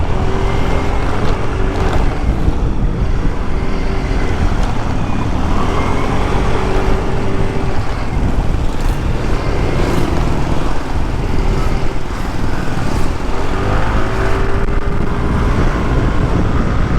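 A Yamaha Mio Soul i 125 scooter rides along, its engine hum blending with continuous road and wind rush at a fairly loud, unbroken level from start to finish.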